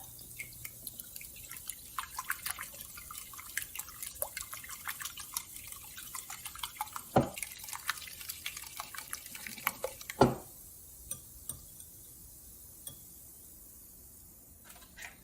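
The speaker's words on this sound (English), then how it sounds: "Add some pepper and whisk that up." Eggs seasoned with salt and pepper being whisked in a bowl, a steady run of quick, light clinking and liquid taps for most of the stretch, with a couple of sharper knocks near the middle, then quieter.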